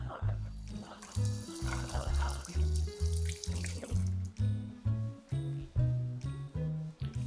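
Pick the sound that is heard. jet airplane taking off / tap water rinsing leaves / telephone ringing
tap water rinsing leaves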